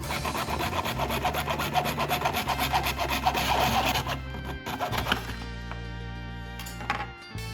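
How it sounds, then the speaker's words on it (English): A hand saw trims a plastic pipe to length with quick, rhythmic back-and-forth rasping strokes up close, then slows to a few scattered scrapes and stops. "I'll trim the extended pipe to the desired length using a saw or pipe cutter"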